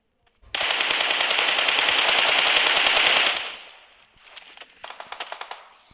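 M416 assault rifle fire in a video game: a long rapid automatic burst lasting about three seconds, then a short pause and a second, quieter stuttering burst, all close and loud.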